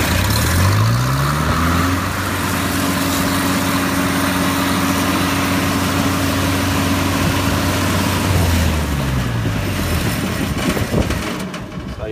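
An engine, started with a glow plug, runs steadily for several seconds to fill an air start bottle to about 400 PSI, a loud low rumble that ramps up at the start and winds down near the end.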